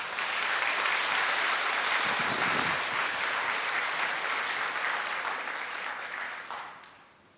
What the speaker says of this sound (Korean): 우리 반갑게 우리 박수로 환영하도록 하겠습니다